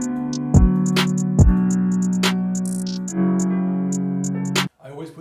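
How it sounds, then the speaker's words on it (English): A UK drill beat plays with a rapid hi-hat pattern plus a second layered hi-hat over a deep sustained bass, with a few low kick hits, loud and close, ending abruptly. "And then with the other hi-hat with it, it sounds like this."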